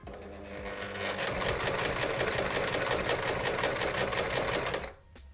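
A sewing machine stitches a scrunchie, giving a steady, fast mechanical whirring and rattling up close that runs for several seconds before stopping abruptly.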